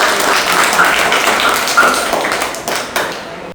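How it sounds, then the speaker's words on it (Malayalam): Audience applause at a government higher secondary school event in Chavara, a dense, steady patter of many hands clapping close by, running evenly for a few seconds before tapering off at the end. "ഒരു നല്ല കൈയടി കൊടുത്തേ കൽഹാര"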